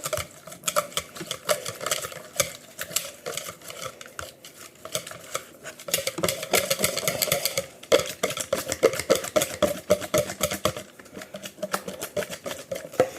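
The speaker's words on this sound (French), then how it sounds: "Vous voyez, je mélange bien." A utensil beats tart dough made with grated gruyère in a bowl, giving rapid, continuous clattering scrapes that grow louder and busier partway through, with no talking.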